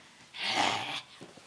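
A single breathy, growly vocal burst of about half a second, a person mimicking a dog's bark, followed by a few faint soft sounds.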